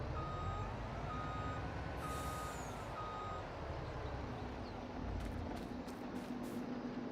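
A truck in the video game Farming Simulator 22 sounds steady reversing beeps over a constant low engine drone, repeating evenly through the clip with no speech.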